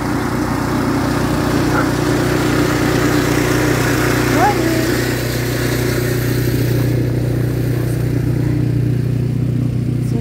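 A small snow blower engine runs steadily at close range through the whole stretch, a constant buzzing drone with a brief voice calling out a greeting over it.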